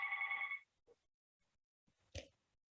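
A landline telephone's electronic ring sounds loud and clear for half a second, then stops, leaving a quiet room with faint shuffles and a soft knock.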